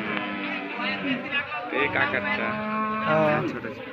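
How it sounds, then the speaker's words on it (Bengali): At a busy cattle market selling Indian-breed cows, a cow gives long, deep, drawn-out moos close by while people talk and bargain around it. "এটা গরু পাইলেন কোথায়?"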